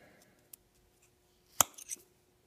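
Scissors from a compact everyday-carry prototype snip through paracord, a single sharp cut followed by a few small crisp clicks and rustles, close and fairly quiet against a still background.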